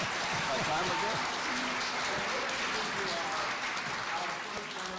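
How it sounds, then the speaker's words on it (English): Audience applause at a mayoral debate, continuous clapping from the crowd mixed with overlapping voices and chatter, fairly loud and sustained throughout. "give them all a round of applause for those"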